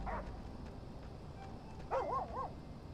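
A dog in the video game Oxenfree II gives a quick run of two or three yipping barks partway through, moderately loud over a low ambient background.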